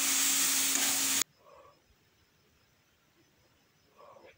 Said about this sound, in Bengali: আদাটা দিয়ে তারপর ওই চিংড়ি মাছ ভাজা ছিল, একটু চিংড়ি মাছ ভাজা দিয়ে দিলাম।